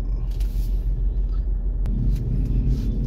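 Morning rush-hour traffic on Escario Street, Cebu City: a steady low rumble of cars and engines passing close by, continuous and fairly loud with no breaks.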